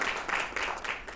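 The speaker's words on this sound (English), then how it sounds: "Can we give them a round of applause" Brief burst of audience clapping at an entrepreneurs' meetup, a few seconds of dense, fairly even applause.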